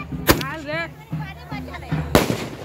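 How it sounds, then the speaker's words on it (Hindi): Sky shot fireworks set off during a Chhath Puja celebration go off as two sharp, loud bangs, with people talking excitedly in between. "सूरज भी स्काई शॉट फोड़ रहा है गाइस"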